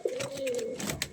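Racing pigeons coo softly close by, one drawn-out throaty call followed by a couple of brief murmurs, with no talk.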